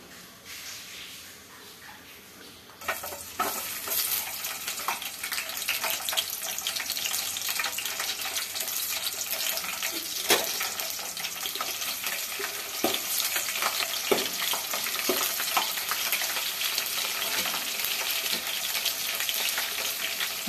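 Thinly sliced garlic hitting plenty of hot oil and frying, a quiet start then a steady, loud sizzle and crackle that holds throughout, with occasional stirring clinks.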